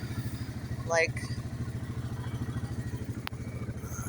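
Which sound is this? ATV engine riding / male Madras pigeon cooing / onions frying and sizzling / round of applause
ATV engine riding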